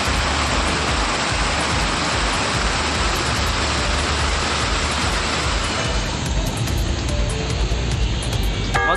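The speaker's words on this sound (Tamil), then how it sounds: "ஈரோடு மற்றும் அதன் சுற்றுவட்டார பகுதிகளில் நேற்று இரவு 1 மணி நேரத்திற்கு மேலாக கனமழை கொட்டி தீர்த்தது" Heavy summer rain pouring in Erode, Tamil Nadu, a loud, dense, continuous roar of downpour with no break, close and steady throughout.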